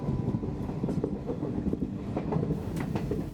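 A train rolls steadily along the rails, a continuous loud rumble with clattering wheel noise close by and no pauses or voices.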